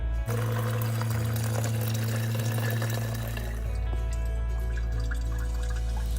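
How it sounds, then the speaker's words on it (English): Water gushes steadily from an opened sprinkler system drain after the supply is shut off, a loud continuous rushing flow close by with a shifting low rumble. "So now that we've got the water shut off to the sprinklers, we can open that drain."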